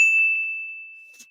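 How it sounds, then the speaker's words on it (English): A single clear, bright notification bell dings once and rings out, fading steadily over about a second with nothing else around it. "hit that button. That notification bell."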